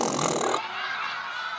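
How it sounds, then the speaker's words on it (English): A loud, raspy fart, roughly half a second of harsh buzzing, followed by a smoother sustained tone, heard alone. "fart."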